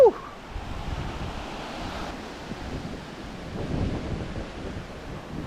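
Ocean waves break and wash steadily onto the beach at 100 Steps Beach in Trinidad, a continuous roar of surf mixed with wind buffeting the microphone, with no talking.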